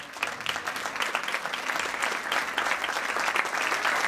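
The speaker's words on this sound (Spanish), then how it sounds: "¡Fuertes aplausos!" An audience at a salsa academy gala applauds a pair of salsa dancers on stage, a lively, dense burst of clapping that grows stronger through the clip.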